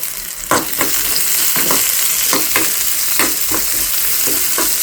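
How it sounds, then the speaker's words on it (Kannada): Onion, mustard seeds, cumin and curry leaves frying in oil give a loud, continuous sizzle, with repeated scraping strokes of a spoon stirring them at a fairly steady rhythm. "ಇದಕ್ಕೆ ಎಣ್ಣೆ ಮತ್ತು ಸಾಸಿವೆ, ಜೀರಿಗೆ ಮತ್ತು ಈರುಳ್ಳಿ ಹಾಕಿ ಫ್ರೈ ಮಾಡ್ತಾಯಿದ್ದೀನಿ."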